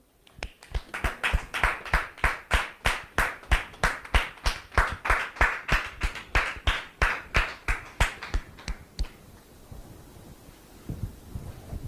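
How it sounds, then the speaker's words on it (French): A studio audience claps in unison, sharp rhythmic beats of about three per second repeating some twenty times, then stops at eight seconds, leaving a faint room hush. "Sous vos applaudissements, s'il vous plaît"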